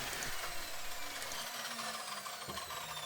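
A hand saw cuts a wooden drawer front to length, with close, steady rasping strokes and a scratchy texture throughout, alone and without talk.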